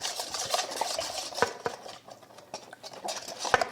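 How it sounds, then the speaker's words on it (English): A whisk stirs honey through a wheat sourdough loaf mixture in a bowl, making soft irregular scraping and sloshing with sharper clicks against the sides; fairly quiet and close, with no voices. "And now I'm just going to give it another whisk."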